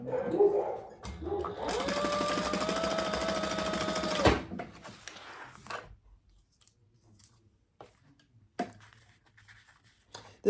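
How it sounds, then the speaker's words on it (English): A sewing machine stitches along the bottom of leather wallet pieces, a loud steady mechanical whir lasting about three seconds after a short start-up, then stopping, followed by quiet handling clicks and taps. "We're going to put these on very similar to how we did the others by stitching along the bottom."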